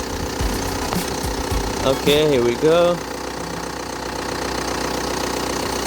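A 2005 Hyundai Santa Fe diesel engine idles with a steady low, knocking rumble, close and continuous, while a person speaks briefly over it.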